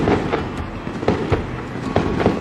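Distant fireworks go off in a rapid, irregular string of sharp cracks and pops, several bursts per second, heard outdoors in a desert setting in China.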